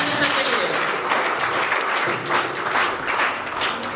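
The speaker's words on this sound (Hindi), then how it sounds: "प्लीज जोरदार ताली सबके लिए" Audience applause at a college Teacher's Day celebration, a steady broad wash of many hands clapping throughout, with some voices mixed in underneath.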